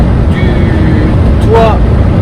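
Steady, loud road rumble and wind roar fill the cabin of a 2024 Fiat Ducato camper van cruising at 110 km/h on an expressway, with a roof-mounted Dometic unit adding noise and a faint whistle rising briefly.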